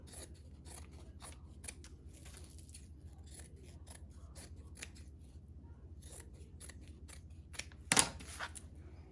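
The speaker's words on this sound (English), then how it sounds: "I'm gonna trim this one so that it's even," Quilt fabric being evened up with scissors, heard as a quick run of quiet, crisp snips close by with a sharper clack near the end, no voices.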